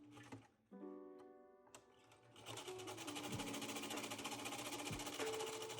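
A sewing machine stitches a corset's center front piece to its facing, starting after a brief pause with a steady, fast mechanical whir and rhythmic needle chatter that runs continuously and close up.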